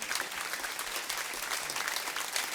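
A packed audience at a high school alumni prize-giving day claps continuously, a dense, even wash of many hands throughout, fairly close and with no talking over it.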